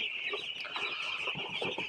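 A flock of chickens clucking and chirping continuously nearby, many overlapping calls forming a busy, steady chatter.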